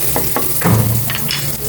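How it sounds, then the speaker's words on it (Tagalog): Garlic sizzles in a pan with a few stirring scrapes and a soft clink. The sound is short, close and fairly loud, with no speech. "Ginigisa ko na itong bawang."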